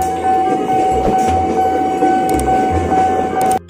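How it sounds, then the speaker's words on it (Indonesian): A Thomas toy train runs steadily close by, a continuous whirring motor with a sustained tonal whine and low rhythmic clatter, cutting off abruptly at the end. "Lihat teman-teman, ada kereta Thomas."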